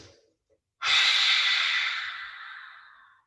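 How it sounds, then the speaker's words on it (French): A single long, breathy exhale out through the mouth during a guided floor exercise, close and fairly loud, rising suddenly and then slowly fading over about two seconds after a quiet moment. "on va faire 3 expirations par la bouche"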